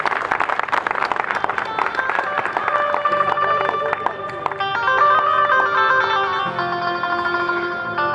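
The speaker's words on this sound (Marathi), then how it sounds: "जोरदार टाळ्या होऊन द्या जोरदार टाळ्या" Audience at a felicitation ceremony clapping steadily at a Ramai Ambedkar birth anniversary event, applause blending into loud, sustained music with no break.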